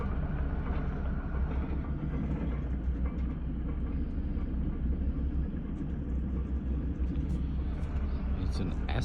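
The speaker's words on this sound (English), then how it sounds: "It's an excavator moving" An excavator moving at night at 5 am, heard as a steady, loud low rumble with a dense rhythmic knocking that runs the whole time, like a heavy tracked machine grinding along nearby.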